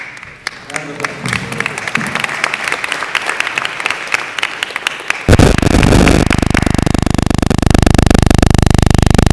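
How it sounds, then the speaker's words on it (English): Scattered applause from an audience at a coalition launch event, individual claps audible for about five seconds before the sound cuts abruptly into loud, harsh, distorted noise. "Round of applause."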